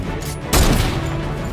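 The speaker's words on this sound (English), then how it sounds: "I heard a heavy shot" A heavy gunshot in a shooter video game: a single loud, close boom bursts out midway and decays into a rumbling tail over steady game background noise.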